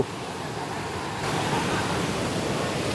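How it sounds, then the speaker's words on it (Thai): A strong waterfall at a riverside campsite in Nakhon Nayok, Thailand, gives a steady broadband rushing roar that grows louder after the first second and continues unbroken, with no voices. "ฟัง เสียง น้ำตกแรง พอสมควรนะฮะ"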